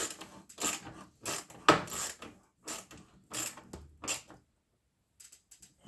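A clamp is tightened on a glued cherry wood segmented vessel, giving a string of about eight short ratcheting, creaking turns in an uneven rhythm, close and alone, then falling silent.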